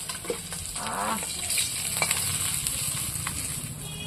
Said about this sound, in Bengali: মাছ ভাজা হয়ে গেছে আমি এখন তুলে দিচ্ছি